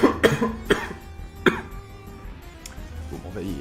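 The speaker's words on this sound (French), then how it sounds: "navré de cette toux fort désagréable" A man coughs several times in short, sharp bursts, close and loud, with a quieter throat clear near the end over faint game sounds.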